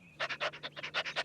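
A cartoon dog pants close up, about ten quick, breathy puffs in a steady rhythm, with no voices over it.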